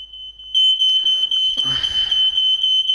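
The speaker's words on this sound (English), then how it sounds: "And the fire alarm is on again." Fire alarm blaring indoors, a loud steady high-pitched electronic tone that continues throughout, with a brief clatter and some background noise partway through.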